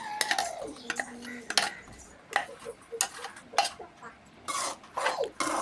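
A spoon scrapes and taps against a pan while ground tomato paste is stirred, giving quiet, irregular clicks and scuffs in short clusters, with speech in between.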